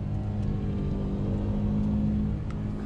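A 2021 Ford F150 4x4 truck engine revving hard during a burnout, heard as a loud, steady low roar with a constant droning tone, close and unbroken, no talking.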